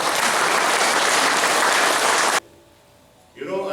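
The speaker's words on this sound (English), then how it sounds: "give a round of applause to our Prime Minister" Audience applause for the Prime Minister during a district tour in Toledo, loud and dense clapping that cuts off abruptly partway through, followed by a quieter pause and then a voice beginning to speak.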